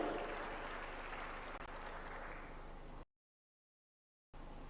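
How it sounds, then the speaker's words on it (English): Audience applause at an African government leaders' conference: steady, fairly faint clapping for about three seconds, then a dead gap of silence before the clapping resumes briefly. "A bigger round of applause."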